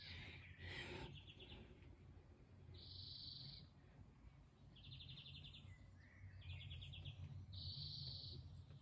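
Birds chirping outdoors at a distance, several short repeated trilling calls spaced apart over faint insect buzz and low ambient rumble.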